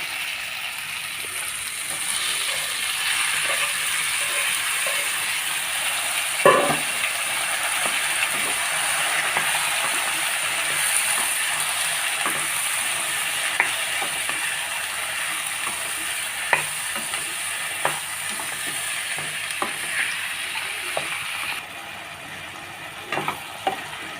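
Taro pieces fry in spiced oil and are stirred in a pan for a coconut taro dish, a continuous close sizzle broken by repeated scraping clicks of the spoon against the pan.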